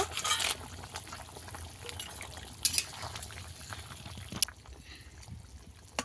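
A pot of water simmers for a pond-fish curry with fried bori, potato and bottle gourd, giving a soft continuous bubbling broken by a few sharp metallic utensil clinks.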